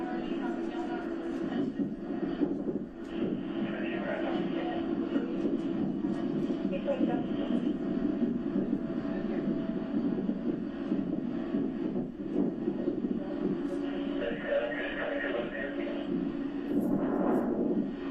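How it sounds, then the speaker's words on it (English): Continuous heavy rotor and engine roar of a helicopter landing, loud and steady throughout with a dense rumbling wash and no clear breaks. "There was a helicopter just landed."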